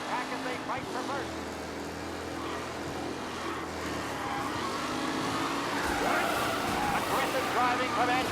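Race cars in the Mafia: Definitive Edition video game roar steadily in a tight pack, a continuous loud engine drone with shifting tones, while voices talk over it.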